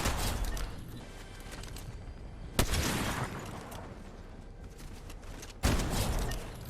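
Burst rifle fire in Fortnite (Chapter 5 Season 1) crackles in rapid volleys, with two sharp, loud onsets standing out over a dense, ongoing rumble of shots.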